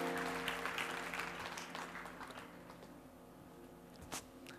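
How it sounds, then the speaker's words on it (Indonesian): A church congregation stands and claps in worship during a sermon, the applause starting dense and fading gradually, with a few sharper claps near the end over a low sustained hum. "Berikan tepuk tangan bagi Tuhan Yesus."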